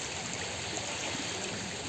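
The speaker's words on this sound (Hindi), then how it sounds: "ये देखिए ये डिफू का नदी है।" River swollen after morning rain, a steady broadband rush of flowing water, faint and continuous with no voices.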